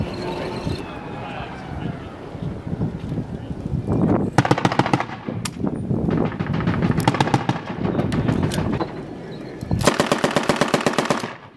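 U.S. Marines fire on an insurgent compound about 400 away, sending loud bursts of rapid automatic gunfire in several strings between pauses, with voices talking around the shooting.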